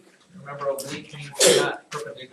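A sneeze bursts out loudly in a classroom partway through a teacher's speech, a single sharp blast standing out from the talking around it.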